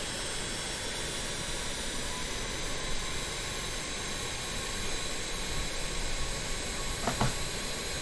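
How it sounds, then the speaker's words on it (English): Jet engines of a BAe 146 airliner in Microsoft Flight Simulator run up to a steady, loud whine and roar, holding evenly throughout with a brief tonal sweep near the end and no talking. "Okay, that's 2 engines started."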